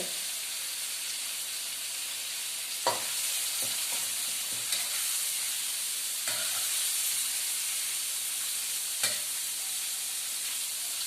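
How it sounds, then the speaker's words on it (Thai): Shrimp and blanched broccoli stir-frying in a hot pan, a steady sizzle and hiss running throughout with occasional sharper scrapes and clatters of the spatula, close and fairly loud with no talking. "ผัดไปเรื่อยๆค่ะ"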